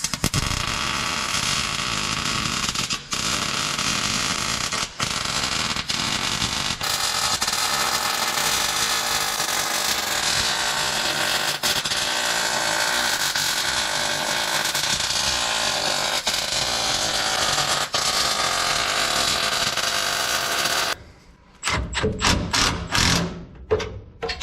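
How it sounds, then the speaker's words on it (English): A welder fuses an exhaust tip onto a car's new exhaust, producing a loud, continuous crackling buzz for about twenty seconds with brief breaks, then stopping into a few short spits and clicks. "let's weld on the exhaust tip"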